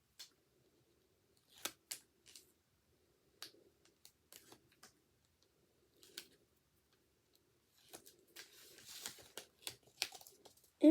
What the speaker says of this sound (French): Je retire le double face et je le colle.